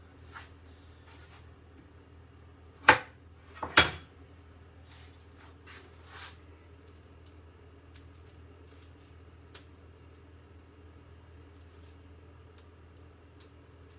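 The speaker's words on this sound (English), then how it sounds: "I'm going to just chop those in half." A knife cuts butternut squash and sweet potatoes in half on a board: two sharp, close knocks about a second apart, then only a low steady hum with a few faint ticks.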